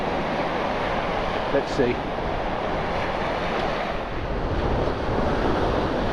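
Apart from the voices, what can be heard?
wind and waves on a shingle beach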